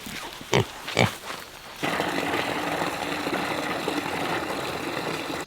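Pigs rooting in a garden, two short sharp grunts or squeals early on, then a constant low rumble of an idling engine nearby masking the rest.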